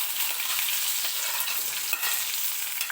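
Cumin seeds and onion fry in hot oil for a dosa potato bhaji, a steady close sizzle with faint stirring scrapes running through it.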